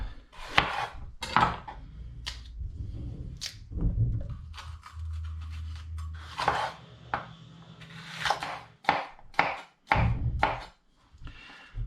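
A knife thunks repeatedly through green capsicum pepper onto a cutting board, giving uneven, close chopping knocks with short pauses.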